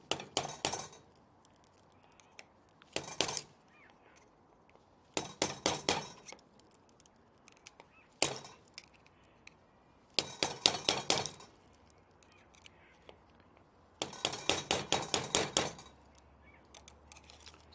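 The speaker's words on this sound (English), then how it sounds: "we're actually going to pull the cap off the lock. This is what the bench block's for." A hammer strikes a screwdriver to knock the cap off a lock held in a bench block, giving about six bursts of rapid, sharp metallic blows separated by quiet pauses.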